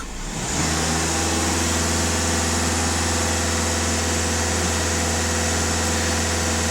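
Skoda or Volkswagen TDI diesel engine held at raised revs, a loud steady drone with constant rumble and whine that starts within the first half second and holds without variation, no voices.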